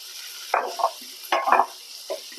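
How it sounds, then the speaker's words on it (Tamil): Shallots, garlic, green chili and curry leaves frying in hot oil for a prawn roast, with a few short bursts of sizzling and stirring scrapes spaced across a quiet background, close and moderately loud. "சின்ன வெங்காயம், பூண்டு, பச்சை மிளகாய், கருவேப்பிலை இதெல்லாம் நல்லா கோல்டன் ப்ரௌன் கலர் வர அளவுக்கு நல்லா வதக்கி கொடுங்க."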